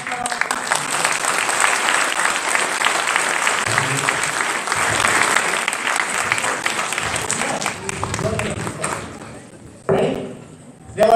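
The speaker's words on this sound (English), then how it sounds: "So please give a nice round of applause for our" Audience applause at a swearing-in ceremony for a Secretary of State in Delaware, a dense burst of clapping that tapers off, followed by voices talking and some rustling.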